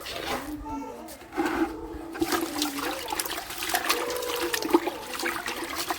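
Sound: rinsing leafy greens under running water

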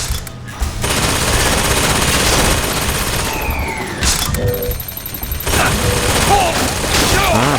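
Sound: machine gun fire in a video game

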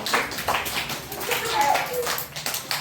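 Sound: children clapping hands

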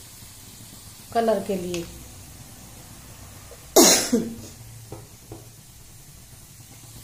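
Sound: Kashmiri chili added to sizzling tempering (chhonk)

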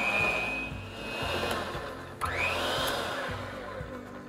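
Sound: mixing cookie dough with green food coloring

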